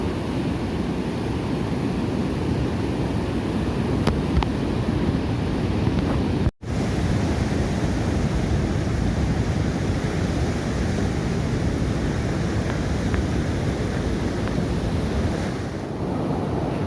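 Surf rolls onto the natural beach at Pecaron in Kebumen, Java, a loud continuous wash of waves mixed with heavy wind buffeting the microphone and a brief dropout partway through.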